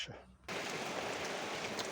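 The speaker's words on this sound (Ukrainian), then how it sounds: "а в нас дощик" Steady rain begins abruptly after a quiet half-second, turning into a dense, even hiss of drops falling outdoors on a farm while grass meal and hay are being worked.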